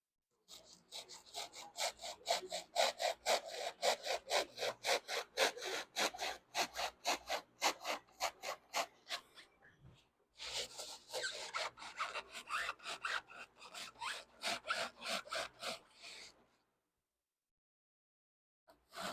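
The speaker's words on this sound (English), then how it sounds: "filling it with foam and then coming back and trimming it" Expanded foam being trimmed on a car body buck, heard as rapid rhythmic rasping saw strokes in two long runs with a brief pause between, close and steady, ending in silence.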